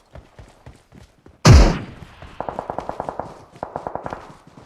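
Gunfire in the PUBG Mobile battle royale game: one loud close blast followed by two rapid bursts of repeated automatic shots at a moderate distance, with faint game sounds and ticks before.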